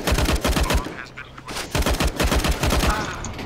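Rapid gunfire in Counter-Strike: Global Offensive comes as dense bursts of sharp cracking shots in quick succession, loud and near, with a brief lull in the middle.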